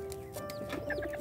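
Small chickens, Serama among them, cluck in short, soft bursts close by, with a steady hum running underneath.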